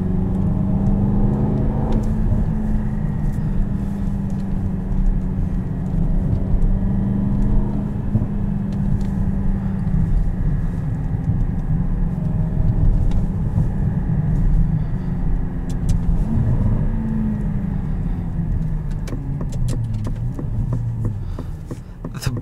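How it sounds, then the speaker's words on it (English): A 2021 Aston Martin DBX engine drones continuously from inside the cabin, its pitch rising and falling with gear changes, with a few sharp crackling pops near the end as it downshifts. "The burbles and backfires on downshifts are absolutely amazing."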